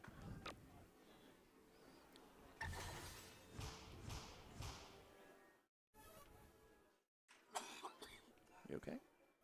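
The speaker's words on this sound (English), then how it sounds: "having a cough fit here" A person has a coughing fit at a team darts doubles event in Las Vegas: several loud, close, harsh coughs in bursts, mixed with nearby talk and a few thumps.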